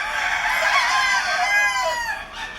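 White Kelso roosters crowing loudly and close by, several long overlapping cock-a-doodle-doo calls running one after another through the whole stretch with no talk.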